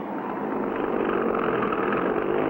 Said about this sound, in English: Sounds like a big plane's engine's warming up.